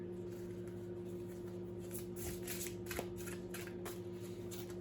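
Tarot cards shuffled by hand, a quiet series of quick riffling bursts over a low steady hum.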